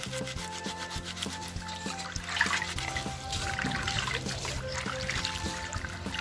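Thick, older leaves being crushed and squeezed by hand to wring out green juice, giving a wet, close rubbing and squelching with trickling liquid, continuous and alone.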